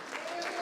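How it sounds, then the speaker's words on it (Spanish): A church congregation bursts into a short spell of applause during a sermon, a dense wash of clapping from many hands that sounds somewhat distant and soft and lasts well under a second. "Aplaude ahora si quieres."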